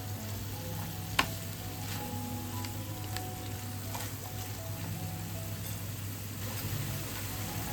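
Chicken with oregano and crushed pepper sizzles steadily in a pan as it is gently stirred, a soft continuous fry with a single sharp utensil clink early on and a low hum beneath.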